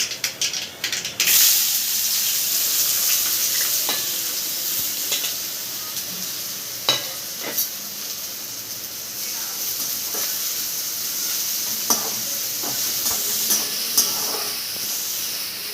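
Chopped onions fry in a pan with mustard seeds, a soft continuous hiss and sizzle. Scattered sharp clicks and taps of stirring recur throughout, with a louder clatter at the start.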